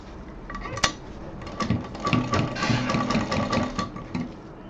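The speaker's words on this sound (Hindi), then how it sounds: "पहले जिप और कपड़े के बिल्कुल नज़दीक पे मशीन चलानी है।" A sewing machine stitches a zip onto cloth close to the teeth, its needle producing rapid rhythmic clattering bursts with a mechanical knock near the start, close and fairly loud.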